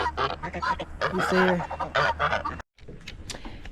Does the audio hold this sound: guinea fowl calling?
yes